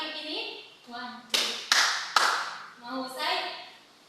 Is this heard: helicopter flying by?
no